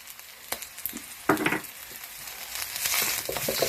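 Gari foto stir fry sizzling in a pan as a little tomato puree goes in, an uneven crackling hiss with scraping stirs and a sudden louder burst partway through.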